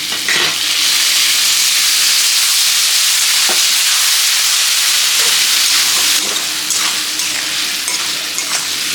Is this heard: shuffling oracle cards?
no